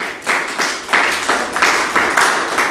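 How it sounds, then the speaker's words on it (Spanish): Classroom audience clapping during a lecture session, a short burst of hand claps in uneven waves, close and fairly loud with no talking. "Hacemos un aplauso."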